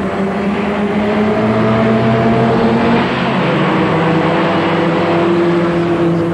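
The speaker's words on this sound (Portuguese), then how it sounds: "Todos os carros vêm juntos, as motos. E agora começam a acelerar." Cars and motorcycles accelerate together in an illegal street race along a dimly lit avenue at night, a dense, loud wash of engine roar with overlapping whining engine tones rising and holding.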